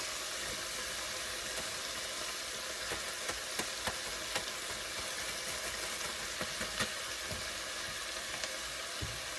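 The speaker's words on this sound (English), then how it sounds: "I'm going to go ahead and add in my chopped garlic" Chopped garlic sizzling steadily in a hot pan among softened vegetables, a continuous close frying hiss with faint stirring clicks and no voices.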